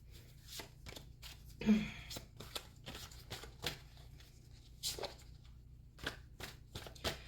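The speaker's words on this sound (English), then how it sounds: "I'm gonna draw more cards." Tarot cards being drawn from a deck: a series of soft, brief card slides and taps spaced through a quiet room, with one louder shuffle-like burst near the start and a few faint voice murmurs.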